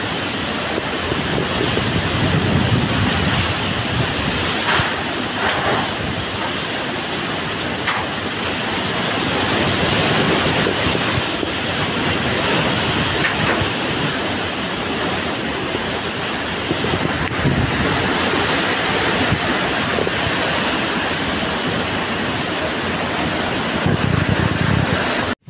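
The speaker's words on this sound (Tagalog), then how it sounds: "Grabe kasi yung salakay dito sa amin ng bagyo." Typhoon Tino winds roar over an island, a loud, steady wash of gusting air and crashing waves with heavy microphone buffeting throughout, no voices.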